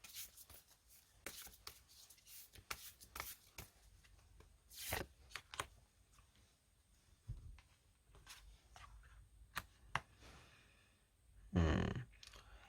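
Tarot cards are shuffled and drawn for a reading, giving soft close riffles and brisk flicks scattered across the stretch, with a louder rustling burst near the end and no talking.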